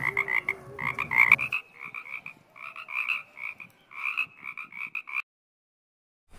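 Rapid bursts of loud, rhythmic croaking like a frog, heard close and alone in repeated runs before stopping abruptly; it may be a person imitating a frog with their mouth.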